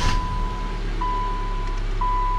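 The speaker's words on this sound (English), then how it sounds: "Start up the vehicle." A 2012 Subaru Outback idles in a garage during brake master cylinder bleeding, a steady low engine drone with a repeating warning chime beeping about once per second.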